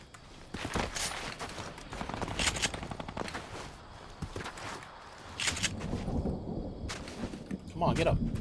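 Gunfire rings out in a video game as bursts of rapid shots and scattered single cracks at moderate volume over background game noise, with a voice speaking at times.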